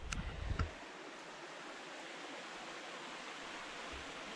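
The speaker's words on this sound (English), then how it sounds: "That's the creek I just had breakfast at." A forest creek on a Washington mountain trail flows in a steady, even broadband wash heard from a short distance, with a brief rustle or knock near the start before the water continues alone.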